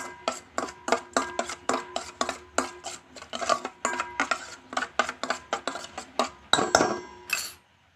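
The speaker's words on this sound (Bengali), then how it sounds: "ভালো করে একটু ফেটিয়ে নেব দইটাকে" A whisk or spoon beating yogurt in a bowl for naan puri dough, a steady run of rhythmic clinks and scrapes against the bowl, about three strokes per second, close and clear before stopping.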